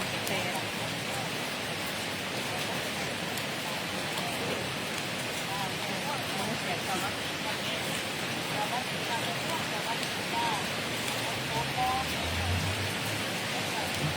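Early-morning rain around five o'clock falls as a constant broadband wash, steady and moderately loud throughout with no distinct drops or pauses.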